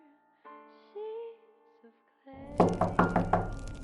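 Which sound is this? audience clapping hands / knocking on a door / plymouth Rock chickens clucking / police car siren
knocking on a door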